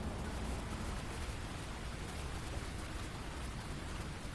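Steady rain in Minecraft pours down in a constant, even hiss with no break, moderately quiet.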